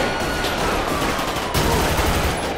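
A security guard fires at players in GTA 5: loud, continuous gunfire with a second heavier volley about halfway through, close and dense with no gaps.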